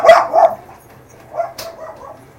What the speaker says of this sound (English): That's my blind schnauzer barking.